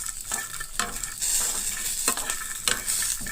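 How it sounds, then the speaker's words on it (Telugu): Green chillies fry in a pan for peanut chutney, sizzling steadily up close while a utensil stirs and scrapes them in repeated strokes, with no talking. "ఇలాగ పొడొచ్చేలాగా వేయించాలన్నమాట"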